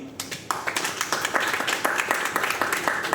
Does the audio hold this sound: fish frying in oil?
no